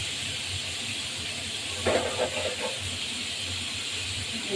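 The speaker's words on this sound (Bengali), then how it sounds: "মাছটা ভাজা হতে থাকুন ভাজা হলে আমি আবার ফিরে আসছি" Rui fish sizzling in hot oil in a home kitchen, a steady bright hiss running throughout with a short burst of louder crackling spatters midway, no voices.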